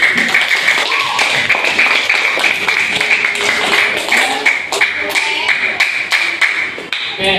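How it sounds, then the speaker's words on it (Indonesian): Group applause in a junior high school STEM class, brisk uneven clapping and tapping carrying on steadily with a faint voice in the background. "tepuk tangan untuk kita semua"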